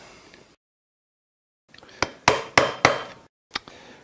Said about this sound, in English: you will need to get a hammer and a screwdriver or a punch